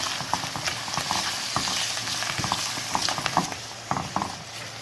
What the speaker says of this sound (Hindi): इसको भी हमने सौते करना है।